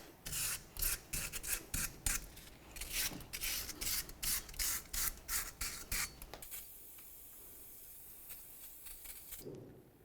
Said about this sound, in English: Now I'll clean in between the studs and the hub itself.